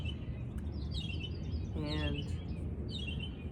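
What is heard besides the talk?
birds singing outdoors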